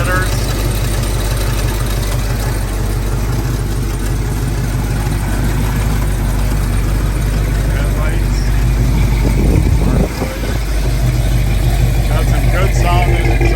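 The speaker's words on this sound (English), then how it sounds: "Good sounding exhaust." A 1978 Ford Bronco's heavy engine idles close by with a deep, throaty exhaust rumble through headers, a brief dip and surge midway, and a voice talking over it.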